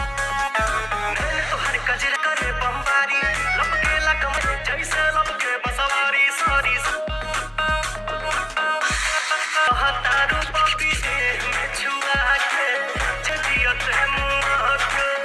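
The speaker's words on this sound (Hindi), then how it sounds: "मैं इस फोन का साउंड टेस्ट दिखा देता हूं" Music plays through a vivo Y400 Pro 5G phone speaker, a steady beat with bright tones and bass pulses, continuous and fairly loud with no talking.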